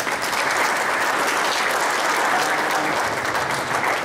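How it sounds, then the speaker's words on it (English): A crowd claps steadily and loudly, a sustained wash of applause that holds even throughout. "Let's give her a round of applause."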